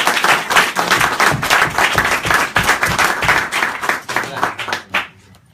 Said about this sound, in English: let's give a final round of applause to our guests.